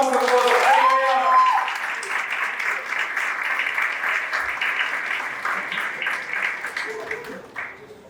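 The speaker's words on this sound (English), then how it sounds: "a big round of applause." A crowd claps in sustained applause for several seconds, with a brief voice at the start, then fades out.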